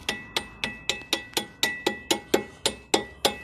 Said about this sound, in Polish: Młoteczkiem delikatnie.